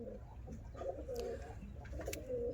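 Pigeons coo in a loft lined with nesting coops, their soft, repeated throaty calls coming close and overlapping across the short stretch, with some higher chirps mixed in.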